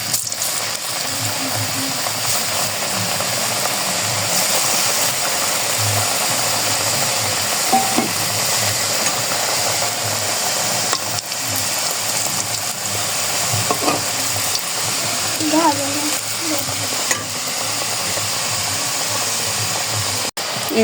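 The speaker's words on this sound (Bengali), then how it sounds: "এখন এই যে তেল গরম হয়ে গেছে, এগুলো ছেড়ে দেব।" Pitha dropped into hot oil in a home kitchen, a steady broad sizzle of frying that holds evenly throughout, with faint utensil clinks and small stirring sounds now and then.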